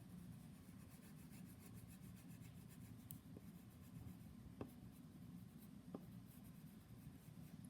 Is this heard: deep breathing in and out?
no